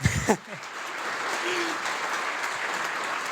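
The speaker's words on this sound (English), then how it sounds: "You can also clap your hands" A forum audience at a panel on geopolitics and cyber issues applauds steadily and evenly after a brief voice at the start.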